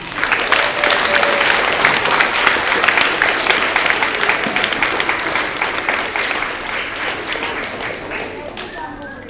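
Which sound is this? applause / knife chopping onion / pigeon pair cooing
applause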